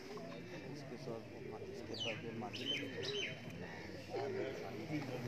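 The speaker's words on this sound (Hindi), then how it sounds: "ये प्योटी में कबूतर है माशाल्लाह" Pigeons in a loft coo and chirp softly under nearby people talking, with bright calls now and then over a low, steady murmur.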